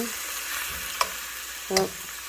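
Chicken thighs fry in an ungreased skillet, a close, steady hiss of sizzling fat with a couple of brief utensil scrapes or clinks against the pan.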